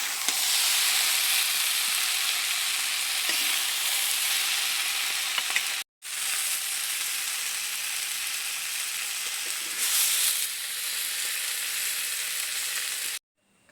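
Malabar spinach cooks with a katla fish head and cumin paste in a pan, sizzling in a dense, even hiss as it is stirred. The hiss breaks off briefly once midway, then runs on until it stops near the end.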